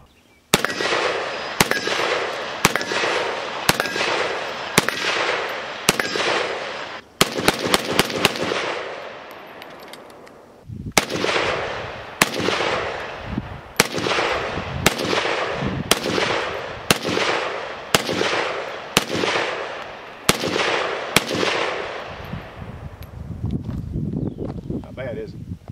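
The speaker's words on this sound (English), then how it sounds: "we've been shooting quite a bit" SKS rifle firing outdoors, a long series of loud, sharp gunshots spaced roughly a second apart, with a brief rapid cluster midway and echoing tails between shots.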